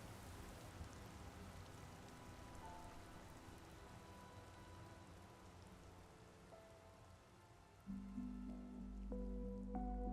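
Steady, quiet rain patters and drips through an open window at night, with a faint sustained tone rising near the end under the constant wash of drops.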